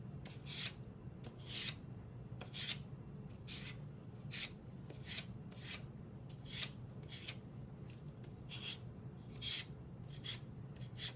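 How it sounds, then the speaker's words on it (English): Sanding paper edges on a Mod Podge project with a sanding block, a series of short, quiet rasping strokes repeating at a steady rhythm, close and alone. "Sand along the third edge of the block and the very edge of the paper, using one downward stroke at a time."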